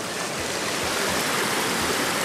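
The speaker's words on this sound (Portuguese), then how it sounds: "foi cavado pelo homem para que a água escorresse" River water runs through a man-dug channel at an old watermill on the right bank of the Tagus at Ortiga, Mação, making a steady, close rushing wash with no voices.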